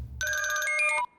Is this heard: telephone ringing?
yes